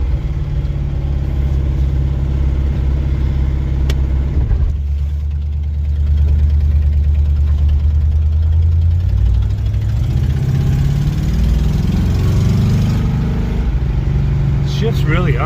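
A 1979 Camaro Z28, woken after fifteen years of storage, idles while still warming up, a steady close engine drone that shifts in pitch and swells partway through.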